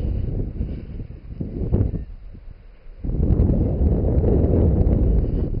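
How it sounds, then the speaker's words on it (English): Wind gusts buffet the microphone while a power kite flies outdoors, rumbling loudly, dipping briefly, then surging back stronger and steady. "Hey, there's some wind."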